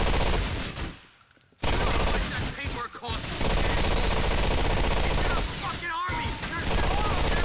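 Rapid gunfire rattles through a shootout in the video game GTA 4, with dense automatic bursts and bangs that drop out briefly after the first second, then resume loudly with sharp shots and metallic clatter to the end.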